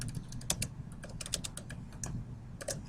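Computer keyboard typing during a maths lesson: a quick, irregular run of light key clicks over about three seconds, close and fairly quiet, with no talking.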